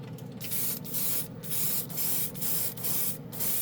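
An airbrush sprays chrome paint onto clear plastic spoons in short, repeated hissing bursts separated by brief pauses, close and fairly loud with no talking.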